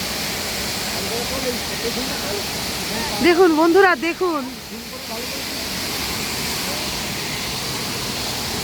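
A waterfall roars as a steady, even wash of spray and rushing water throughout, while someone talks excitedly over it for a couple of seconds in the middle.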